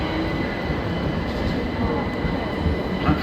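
A train runs through a platform at Clapham Junction station without stopping, a loud continuous rumble and rattle of wheels on rails that fills the whole stretch, close by and steady.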